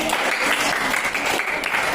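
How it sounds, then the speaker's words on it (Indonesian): Students in a classroom applauding together, a dense, even burst of many hands clapping that fills the short moment at close range, with a little murmur mixed in. "tepuk tangan dong"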